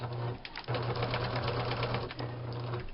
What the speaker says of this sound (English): And I'm going to sew it.